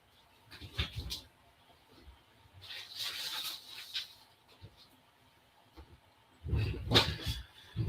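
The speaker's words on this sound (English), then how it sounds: "My dog wants to come in just a second." A dog barking to come inside, several short muffled barks in separate bursts, somewhat distant and fairly faint against a quiet background.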